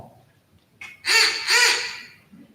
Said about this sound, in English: Duck call.